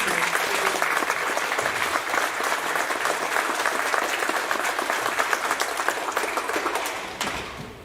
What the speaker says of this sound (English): So if you would give them a round of applause as a team.